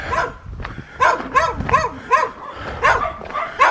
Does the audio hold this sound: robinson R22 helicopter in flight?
no